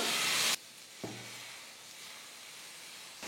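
Rava dosa batter cooking on a hot tawa: a loud sizzle fades into a soft, steady hiss with a few faint clinks, and the sizzle flares up again briefly at the end.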